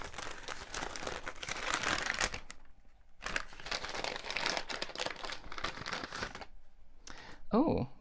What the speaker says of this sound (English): Nice little sticker, which I'm going to rip straight through.